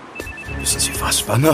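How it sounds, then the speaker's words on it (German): A mobile phone tied to a cat rings in a German radio drama, its ringtone under a man's close spoken line and clear for well over a second. "um das Etwas mit dem klingelnden Handy näher in Augenschein zu nehmen."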